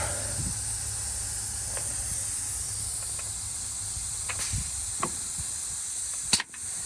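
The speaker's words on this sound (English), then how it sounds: "So I got a little bit of an air leak somewhere." A constant high-pitched hiss of an air leak on a 1971 Peterbilt 352 truck, with a few faint clicks and a sharp knock near the end; no voices.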